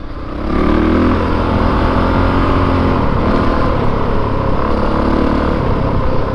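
A 2022 Honda CRF450RX dirt bike engine revs hard and steadily, a loud, close, continuous motor drone that holds high and rough for several seconds with no talking.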